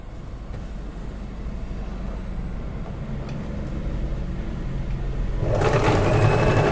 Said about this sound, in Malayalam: ഞാൻ അടുത്ത പീസും കൂടെ തയ്ക്കട്ടെ